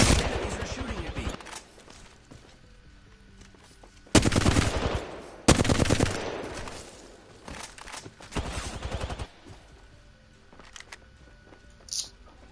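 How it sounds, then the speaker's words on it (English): Rapid gunfire from Apex Legends comes in several loud bursts of automatic fire with brief pauses between them, followed by a quieter stretch with sporadic shots. "Enemies are shooting at me."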